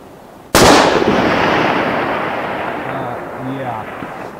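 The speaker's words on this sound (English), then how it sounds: "I'm going to fire one more shot into that spot." A single loud .308 Winchester rifle shot with a 180-grain bullet cracks sharply, then its long boom rolls and echoes across the range, and faint voices follow near the end.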